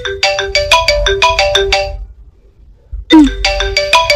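A mobile phone plays a loud, bright, repeating melodic ringtone close by. It stops for about a second, then starts again, and a short voice sound comes in as it resumes.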